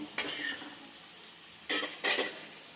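Onions, tomato and green chilies fry in a pan for a palak roti pachadi, with a soft sizzle underneath and a few scraping stirs of a spatula against the pan.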